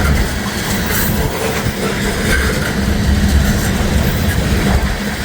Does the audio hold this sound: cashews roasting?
no